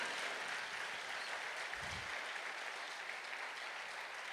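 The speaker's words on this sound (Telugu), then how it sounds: "దేవునికి ఒకసారి గట్టిగా చప్పట్లు కొడతాం చూడండి." A church congregation claps for God at a Khammam Vijayothsavalu gathering, giving a faint, even wash of applause that holds steady throughout.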